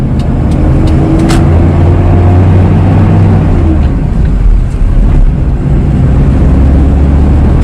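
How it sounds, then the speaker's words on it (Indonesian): A Toyota Kijang LGX engine roars loud and close while revving in second gear, a steady heavy drone whose pitch sags slightly partway through and then holds, with no speech. "kalian lihat raungan mesin sama RPM ya"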